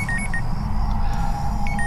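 Telephone ringing in a hotel room in a radio horror drama: repeated electronic beeping ring bursts over a steady low hum, clear and close, no talking.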